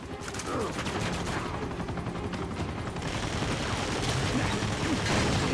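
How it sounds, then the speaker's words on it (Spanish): Rapid gunfire from the Uncharted 2 video game, with repeated dense bursts of shots running almost continuously under a steady wash of battle noise and a helicopter nearby. "necesito un par de tiros más para matarlo"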